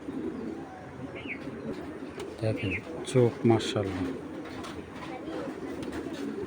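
Hurricane breed pigeons, a pair kept in a collection, coo in soft rhythmic bursts near the middle of the recording while someone talks over them, with faint chirps in the background.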